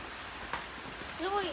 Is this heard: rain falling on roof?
yes